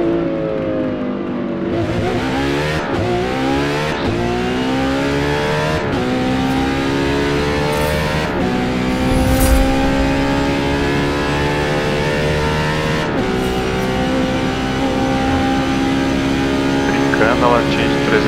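Ferrari FXX K in Forza Motorsport screaming at top speed on the Mulsanne Straight, loud high-revving engine climbing through gear shifts in stepped rising whines, with someone talking over it.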